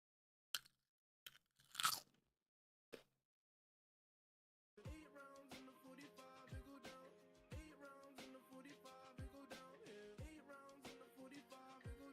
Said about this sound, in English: Nice crunch, thanks